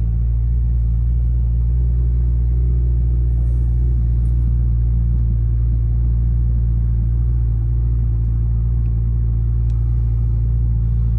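A Mercedes car engine idles while warming up, a steady, close, low rumbling hum that continues evenly throughout with no talking.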